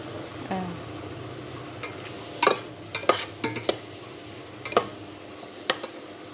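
Food frying in a pan under a low steady sizzle, with a utensil scraping and clacking against the pan in irregular bursts, close and without talk.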